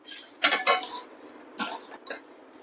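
Black urad dal and chana dal dry-roasting in a pan for curry leaf idli podi, heard as a few close, bright clinks and scrapes of a utensil against the pan in quick clusters.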